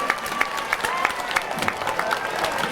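Audience applause at a Wren Boys and Girls traditional Irish gathering, steady clapping from a crowd in a room, moderately loud and continuous with a few scattered cheers.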